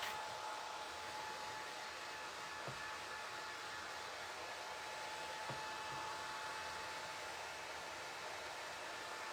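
A hair dryer blows steadily on crackle paint drying over wooden blocks, a constant close airy whoosh with no pauses, running alone without talk.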